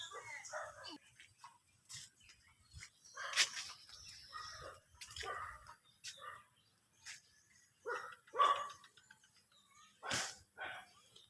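Dogs bark at a jackal at night, sharp scattered barks and yips of varying distance, some near and some from a neighbouring house, with a person talking in between.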